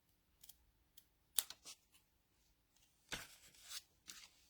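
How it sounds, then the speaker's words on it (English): Scissors snip through paper in a few quiet, sharp cuts spaced over a few seconds, close up, with no talking. "I'm just going to cut it straight across."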